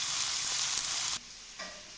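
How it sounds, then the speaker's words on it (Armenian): Meat fries in a hot pan for a rice dish, a loud, bright sizzle that cuts off sharply partway through and then returns as a quieter crackle. "Թողնում ենք հանգիստ տապակվի։"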